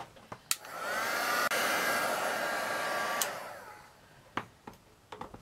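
A hair dryer runs on wax over a mixed media plaque, a steady close whoosh lasting about three seconds before cutting off, surrounded by a few sharp taps and clicks.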